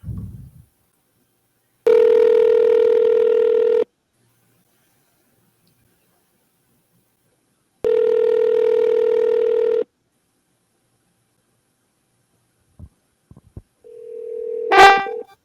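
An outgoing phone call rings twice in long, evenly spaced electronic ring-back tones with silence between them, then a few faint clicks and a short rising tone before voicemail picks up.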